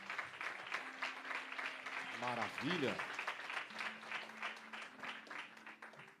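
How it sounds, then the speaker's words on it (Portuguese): A crowd claps in sustained applause at a CFO graduation ceremony in Santos. The clapping is fairly faint and steady, with a voice speaking over it. "Pode dar uma salva de palmas para Jesus"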